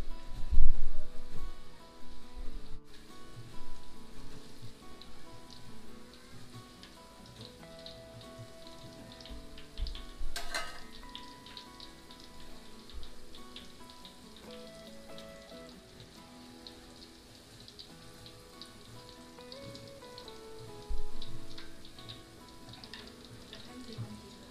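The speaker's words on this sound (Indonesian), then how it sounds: "langsung aja kita goreng atau proses pengeringan" A continuous crackling sizzle of homemade instant noodles frying in hot oil over low to medium heat, with a couple of louder spatters and clinks along the way.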